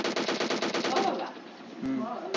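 Rapid bursts of automatic gunfire from the battle royale game PUBG, a quick rattling string of shots up front that thins out, with a few later single reports and a voice speaking briefly under it.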